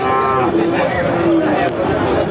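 A cow lets out a low, drawn-out moo amid a noisy crowd of people chattering nearby at a cattle market.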